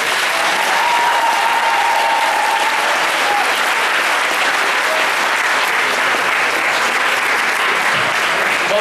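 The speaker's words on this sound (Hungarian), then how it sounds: "Kérünk egy nagy tapsot neki." Loud, steady applause from an audience at a Christmas school concert, dense clapping filling the hall throughout with a faint voice briefly audible early on.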